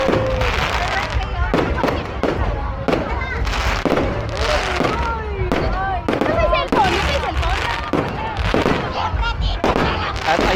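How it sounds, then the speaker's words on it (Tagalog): Fireworks burst repeatedly at a Cavite City fiesta carnival in the Philippines, sharp cracks and booms in quick irregular succession with whistling trails, under crowd chatter and voices talking nearby. "Nagsimula na po yung fireworks"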